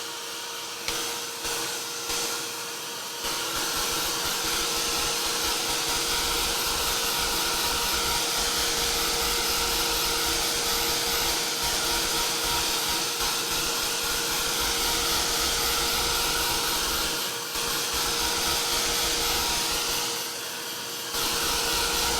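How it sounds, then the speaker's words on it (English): A heat gun blowing hot air over an art journal page, giving a loud, steady, close-up roar that runs almost unbroken for about twenty seconds, cutting out briefly once before starting again, with no talking. "maybe we should hit them with the heat gun just to make sure"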